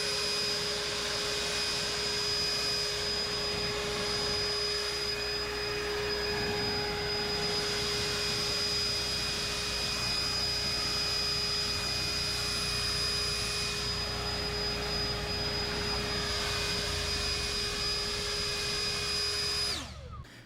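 A Toro prototype battery-powered commercial backpack leaf blower runs steadily at close range, a constant high-pitched whine and airy rush held for about twenty seconds before cutting off.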